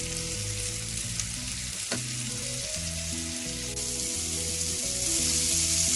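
Peri peri chicken pieces fry in a pan as they are turned one by one to cook on both sides, producing a continuous close sizzle with light stirring and a short scrape partway through.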